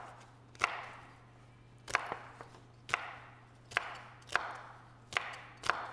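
Knife chopping green papaya salad ingredients on a cutting board, about eight sharp, evenly spaced thuds close by, each with a short ringing tail, over a low steady hum.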